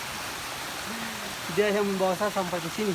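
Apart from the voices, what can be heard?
waterfall in Kasiruta forest, Halmahera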